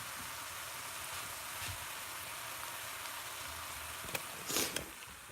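Vegetables sizzle in a hot pan with a steady, hissing crackle filling the whole stretch, with a couple of louder pops near the end.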